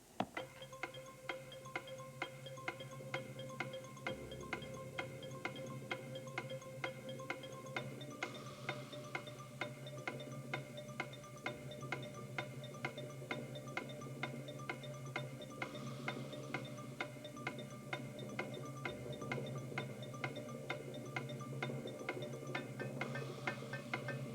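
A countdown clock ticks steadily over a tense, sustained musical tune, running without pause for over twenty seconds, with no voices.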